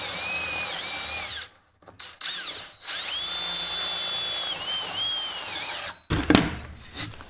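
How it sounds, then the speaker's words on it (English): A power drill bores through solid wood for a bed frame, two long high-pitched whining runs separated by a short pause, followed by a brief clattering burst of handling noise. "I'm gonna be drilling through here into that wood"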